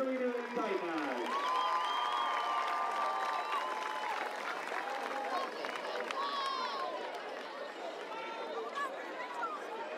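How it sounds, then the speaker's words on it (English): Crowd applause and cheering at a North Carolina high school football game, a steady broad wash of clapping and voices filling the whole stretch, with a loudspeaker announcement and bright whistle-like tones over the noise. "A round of applause for your senior cheerleader and tight knives."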